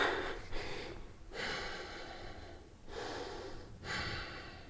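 Deep breaths during a full-body yoga stretch at home: two long, airy exhales sweep through, separated by brief pauses, close and moderately loud with no talking.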